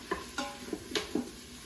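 Diced jalapeno tumbled into the hot pot of an Instant Pot and stirred, a handful of short scraping and clinking strokes over a faint sizzle, close and fairly quiet.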